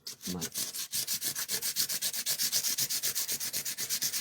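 Repeated rhythmic rubbing of a painted craft piece for a Yuletide village, roughening the paint to give it an aged, vintage look; steady close-up back-and-forth strokes, about five per second, with no talking.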